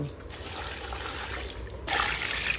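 Water poured from a container into a small washing machine, a steady splashing gush that grows louder and brighter toward the end.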